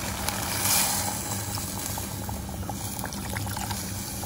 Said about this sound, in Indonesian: Kita tuang air.